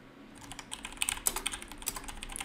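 Quick bursts of computer keyboard keystrokes as a folder name is typed, light irregular clicks close by with short pauses between key runs, no voices.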